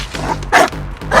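A dog barking in John Wick 4, three quick, loud, close barks spaced apart, heard alone.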